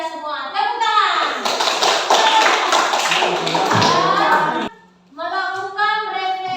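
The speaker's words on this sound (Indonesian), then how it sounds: "Tepuk tangan." A class of children in a school in Palembang claps their hands together rhythmically for several seconds. The clapping is loud and close with voices over it, breaks off in a short pause, and then young voices carry on.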